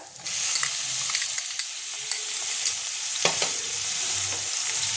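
Onion and chilli sizzle steadily in hot oil for a Bhola fish masala curry as onion paste goes in, with a constant close frying hiss, a few stirring clicks and one sharp scrape partway through.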